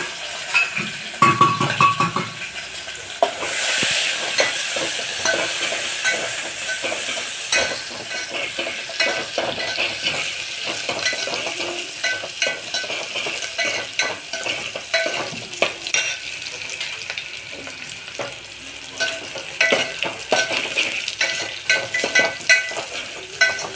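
Garlic, chillies, onion and curry leaves fry in hot oil with a loud, steady sizzle, broken by close scraping stirs and occasional clinks of a utensil against the pan.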